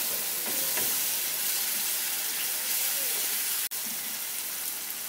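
Masala with a little sugar stirred in a frying pan makes a soft, continuous sizzle with scattered scraping strokes and one sharp click near the end; no one speaks.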